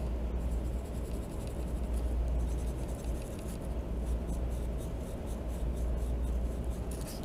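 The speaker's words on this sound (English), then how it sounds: "I'm just gonna draw little eyes on there." A pen drawing small eyes on paper makes a steady, soft scratching that runs continuously throughout, close up and fairly quiet, with no talking.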